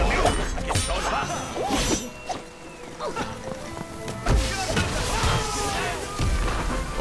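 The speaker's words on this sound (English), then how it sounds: "Oh shit, it's a lot of explosions!" Video game explosions and impacts in En Garde! pop and boom in quick, irregular succession, layered with busy game effects and occasional voices.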